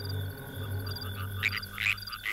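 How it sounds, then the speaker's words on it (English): A frog croaks in a few raspy bursts over a steady outdoor hum, close and moderately loud, with no voices. "Oh, it was only a frog."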